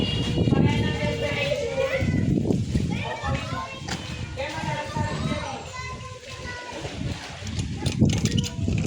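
People and children splash while swimming in a private resort pool, busy splashing and water movement under constant lively chatter, calls and children's voices close by.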